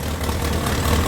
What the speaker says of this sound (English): So now, start it up.